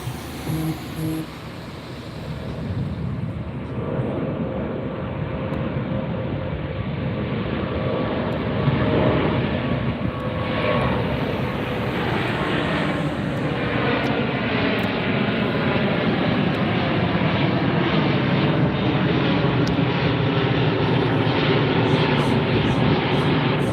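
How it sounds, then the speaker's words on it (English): An Airbus A350 jet on departure from LAX, heard from the beach near the airport, with a loud, sustained broadband engine roar that builds and holds steady throughout. "And here comes our departure. This is Delta Flight 290 and Airbus 350."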